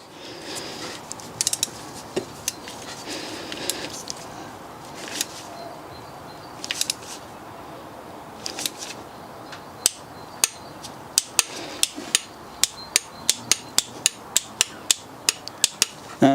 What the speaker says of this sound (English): Now I'm going to get all of the bolts torqued down to 10 Newton meters.